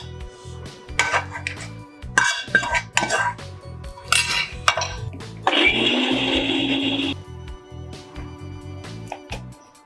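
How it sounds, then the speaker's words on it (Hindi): An electric mixer grinder whirs loudly for a few seconds as it grinds fried onion, ginger and garlic masala. A faint background melody and clinks of kitchen utensils can be heard before and after the grinding. "अब इसको हम मिक्सी में पीस लेंगे।"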